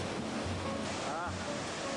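Iguassu Falls thunders at the Devil's Throat, heard from the catwalk on the Brazilian side as a dense, loud, continuous roar of falling water, with wind buffeting the microphone.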